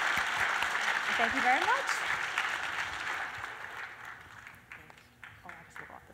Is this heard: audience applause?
yes